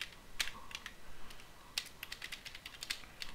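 Someone types a password on a computer keyboard: quiet, irregular keystroke clicks in short bursts with a few sharper taps, no talking.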